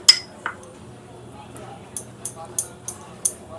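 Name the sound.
knife cutting oiled dough into pieces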